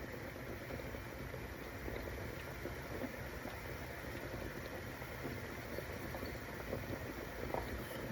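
Vegan cottage pie filling frying steadily in a pan, a continuous close sizzle and bubbling hiss with no pauses throughout.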